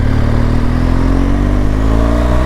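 A BMW GS1200 motorcycle's 1200 flat-twin engine runs loud and close, a steady throbbing drone that edges slightly upward in pitch.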